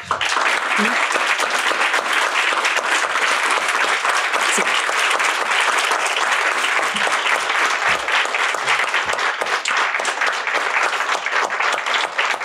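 Audience applause in a studio, dense sustained clapping that stays loud and even throughout, with a few faint voices mixed in beneath it.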